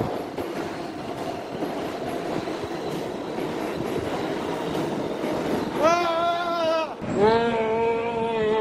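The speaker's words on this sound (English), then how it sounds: "Good, train's coming." A New York subway train rumbles in, growing louder, then brakes screech and hum in long tonal squeals as it arrives.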